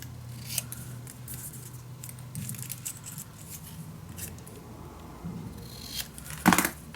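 Scissors cut through art paper in a run of close, crisp snips with soft papery rasps and a sharper snip near the end, with no talking.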